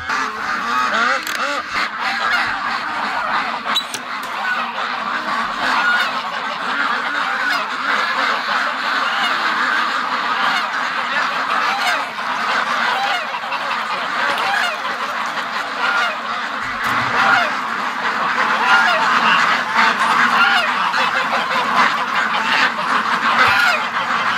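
A flock of ducks, Muscovy among them, honks and quacks steadily at close range as they are let out on a windy farm, a dense continuous racket with no talk over it.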